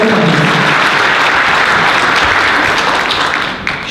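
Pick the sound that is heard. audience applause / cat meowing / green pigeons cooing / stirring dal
audience applause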